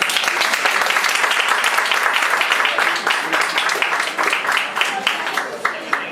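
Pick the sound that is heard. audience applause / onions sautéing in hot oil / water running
audience applause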